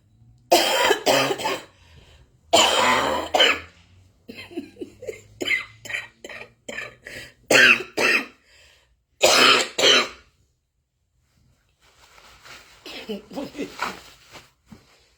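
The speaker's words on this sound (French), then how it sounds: "J'ai une toux qui me menace depuis." A woman coughs and clears her throat in a run of loud, close bursts spread across several seconds, separated by pauses, with quieter rustling between them.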